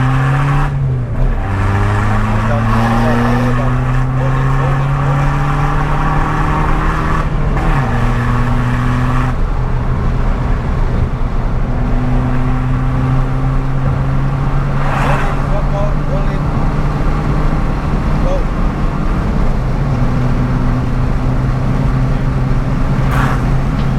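A Skoda Fabia VRS Mk1 with the 1.9 diesel engine drones steadily from inside the cabin, its engine note rising and dropping through gear changes over a constant road rumble, with occasional voices in the background.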